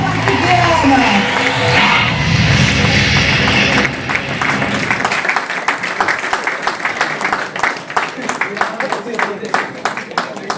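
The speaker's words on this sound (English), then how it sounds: "Big round of applause once again." An audience at the launch of South Asia's inaugural Women's Handball League in India breaks into loud applause. At first it is a dense wash mixed with crowd noise and a voice, then it thins into scattered individual claps.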